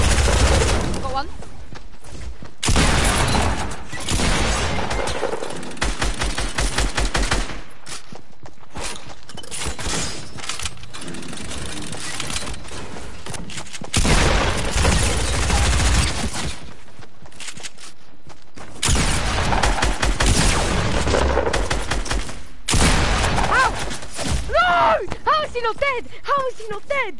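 Video game weapons firing in rapid, loud bursts separated by short gaps, with gunfire and impacts filling most of the stretch and squad voices occasionally heard.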